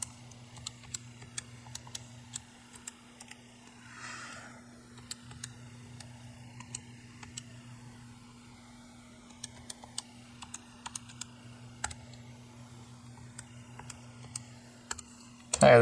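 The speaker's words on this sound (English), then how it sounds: "So I'm going to type this in, being very careful with parentheses." Typing on a graphing calculator keypad, sharp scattered plastic key clicks, sometimes single and sometimes in quick runs, over a quiet steady hum, close and fairly faint.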